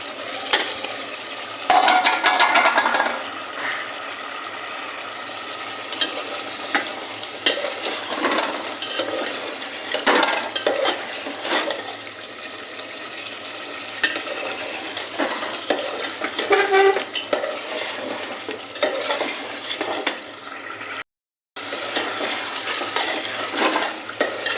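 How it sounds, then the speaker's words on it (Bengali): Beef and new potatoes fry in a pan while a spoon stirs and scrapes through them in a steady, continuous sizzle with repeated scraping strokes, close and moderately loud, cut by one brief silence near the end. "মাংসটা আমার হালকা মতো কষানো হয়েছে, তো আমি এখানে আলু দিয়ে দিব।"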